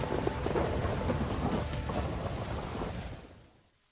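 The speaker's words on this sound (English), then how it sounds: "Ooh, lightning and everything." Thunderstorm in the Minecraft Story Mode game: steady heavy rain with rumbling thunder rolling throughout, loud and close, fading toward silence at the very end.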